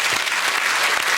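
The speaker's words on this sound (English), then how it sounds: "I think that deserves a round of applause" A studio audience bursts into brief, dense applause, a full wash of clapping from a crowd at a chat show, loud and unbroken for about a second.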